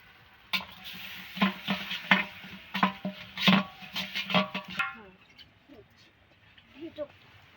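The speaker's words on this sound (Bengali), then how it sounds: "চাল চালটা আমি ভালো করে ভেজে নেবো" Rice being fried and stirred in a pan for khichuri, a stretch of scraping stirs and sizzling bursts that stops abruptly, followed by quieter faint clatter.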